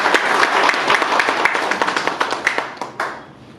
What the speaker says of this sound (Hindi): बहुत बढ़िया सर, के लिए एक बार ताली बजाओ।